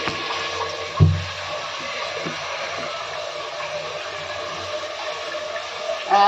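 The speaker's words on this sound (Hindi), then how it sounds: "ये पतीला मैं भर के रखती हूँ।" Tap water running steadily into a cooking pot, a soft continuous rush with a thump at the start and a faint rise near the end.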